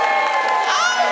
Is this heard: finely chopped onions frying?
no